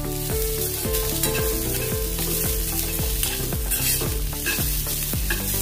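Finely chopped carrots fry with chillies in a pan for veg fried noodles, stirred in a fast steady rhythm that makes repeated ringing scrapes over a loud, constant close sizzle.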